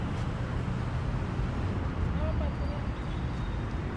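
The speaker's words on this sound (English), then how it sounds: "It's windy." Steady low wind rumble buffets the microphone outdoors at Clark Veterans Cemetery in the Philippines, a constant broadband roar with no distinct events.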